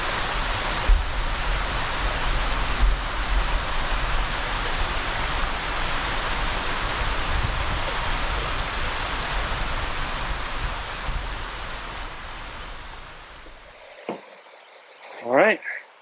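Steady roaring rush of waterfalls beside a riverside campsite on the Owyhee fills the scene, a constant broadband wash that fades near the end before brief faint sounds.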